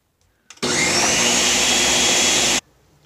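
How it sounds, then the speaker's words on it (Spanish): A countertop blender motor whirs loudly and steadily for about two seconds as it blends a flan mixture, switching on abruptly and cutting off cleanly, with near silence on either side. "En nuestro motor vamos a empezar a licuar."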